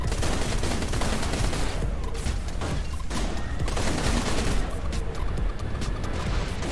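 Spaceship guns firing in the space combat game Everspace 2, a dense, loud, continuous barrage of rapid shots and blasts with explosive crashes throughout, no talking.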